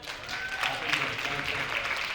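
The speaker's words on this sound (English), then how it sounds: "can I get some claps for that?" A crowd claps at a business talk on social media strategy, a moderately loud wash of applause with some voices mixed in underneath.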